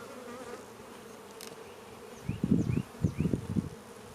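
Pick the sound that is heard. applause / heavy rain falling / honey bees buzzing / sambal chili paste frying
honey bees buzzing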